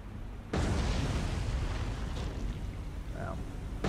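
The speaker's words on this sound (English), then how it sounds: "Four torpedo hits, I'm happy." Torpedo hits exploding against warships in the naval game War on the Sea, a sudden heavy boom followed by a long rumbling roar, with talk faintly underneath.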